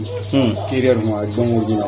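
Close pigeon coos at a market stall selling racer and local breeds, a few soft throaty calls in quick succession, fairly loud with other bird sounds around.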